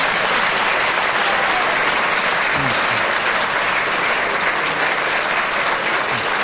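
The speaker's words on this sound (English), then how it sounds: "he deserved that applause" Studio audience applauding on a British radio panel game, a dense, steady wash of clapping that fills the whole stretch at full loudness with no voices on top.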